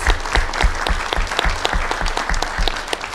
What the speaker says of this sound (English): how about a round of applause for all of our sponsors?